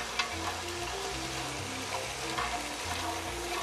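Carrots, celery and a whole onion sizzle in a soup pot, a steady, soft frying crackle with occasional stirring clinks running throughout.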